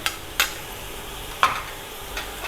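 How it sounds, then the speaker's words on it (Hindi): Whole garam masala sizzling with chicken in hot oil, a constant hiss of frying punctuated by a few sharp clinks of a stirring spoon against the pot. "अब चिकन को फ्राई करने से पहले मैं इसमें डाल दूंगी साबुत गरम मसाला"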